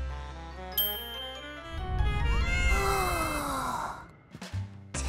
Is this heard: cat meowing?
yes